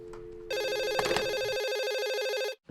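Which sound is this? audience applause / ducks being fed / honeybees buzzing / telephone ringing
telephone ringing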